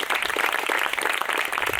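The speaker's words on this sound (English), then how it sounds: "how about a round of applause to Linda and Tom for opening up" A room of supporters applauds hosts Linda and Tom at a political in-person event held in their home, a dense steady wash of many hands clapping close by, with no talk.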